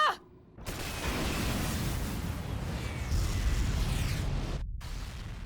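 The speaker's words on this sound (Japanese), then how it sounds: "電磁投射砲発射" Railgun fire and explosions in an anime space battle: a loud, sustained, roaring burst starts after a brief quiet moment, holds steady for several seconds, cuts out briefly, then returns.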